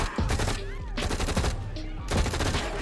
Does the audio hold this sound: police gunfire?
yes